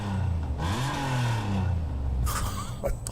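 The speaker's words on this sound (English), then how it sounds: "Oh, hang on, let's hear the engine." A TVR sports car engine in Gran Turismo 7, revving with rising and falling pitch as the throttle is worked, loud and close, with brief clatter near the end.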